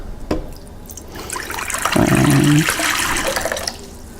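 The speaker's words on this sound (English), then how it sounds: "Now for our wet ingredients, we're going to put in 720 grams of water." Water is poured into a mixing bowl for gluten-free bread dough, a steady gushing splash that swells and then tapers off, close and fairly loud with no talking.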